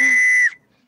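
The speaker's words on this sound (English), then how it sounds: "Is that your rape whistle?" A single shrill, steady whistle blast lasting about half a second, cutting off abruptly into near silence.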